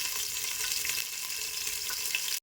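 Hot oil sizzles continuously in a pot for Chettinad chicken biryani, a close, even hiss with small crackles, then it cuts off abruptly.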